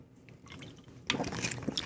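Someone drinking water: quiet liquid sloshing, then louder wet gulps and swallows up close.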